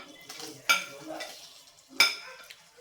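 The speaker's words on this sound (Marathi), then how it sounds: "मी रवा छान भाजून घेत आहे" Semolina dry-roasting in a pan with utensil scrapes and clinks against the metal, two sharper knocks standing out over soft rustling, with no talking.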